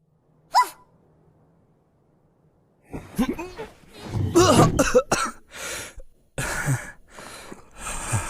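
Harsh, close coughing in a quick series of bursts after a brief quiet stretch, with gasping breaths between them, from the anime Chainsaw Man dubbed in Hindi.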